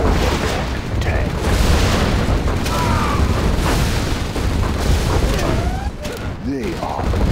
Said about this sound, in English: This is the Overlord tank.